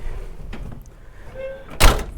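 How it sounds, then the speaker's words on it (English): An old car door with a 63-year-old motor slams shut once, a loud close thump near the end after quiet cabin rustling and a faint tone. "Close the door."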